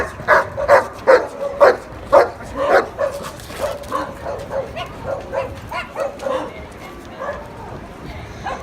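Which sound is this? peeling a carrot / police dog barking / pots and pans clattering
police dog barking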